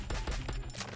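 Rapid gunfire bursts at a military-style shooting range in a mobile battle royale game, several close, loud overlapping shots in a dense volley over one second.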